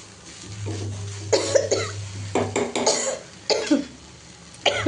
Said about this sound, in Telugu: అమ్మ దగ్గు వచ్చేస్తుంది